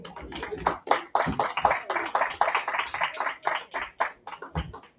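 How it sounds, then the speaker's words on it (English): A small group claps in rough, uneven bursts, close and fairly loud, with some irregular taps mixed in at a local political gathering. "Give yourselves a big applause"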